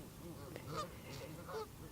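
Several geese honk back and forth at a moderate distance, a few harsh calls spaced across two seconds over a steady outdoor background hum.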